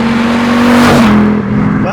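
An Audi Quattro with a louder exhaust idles in a driveway, giving a steady, deep growl that stays loud and close for the whole stretch, with a slight rise and settle near the end.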